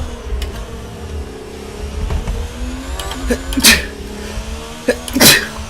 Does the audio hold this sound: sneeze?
yes